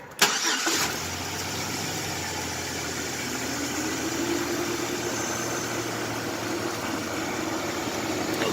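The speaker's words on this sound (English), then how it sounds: "So let me start the truck, and we shall demonstrate." A 2006 Chevy Silverado truck with a 4.3L engine cranks and catches with a sharp burst, then settles into a steady, loud idle with cooling fans roaring continuously throughout.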